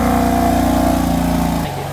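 A BMW M4 with a loud aftermarket exhaust runs steadily with a deep, droning engine note, close and loud, cutting off abruptly near the end.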